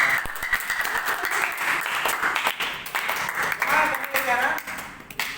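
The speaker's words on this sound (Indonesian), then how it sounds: "Beri tepuk tangan dulu buat saya." An audience of children gives sustained applause, dense steady clapping close by, with voices mixed through it before it thins out at the end.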